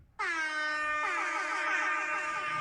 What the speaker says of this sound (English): you're always going to know it's Linux Sunday because you're going to hear the air horn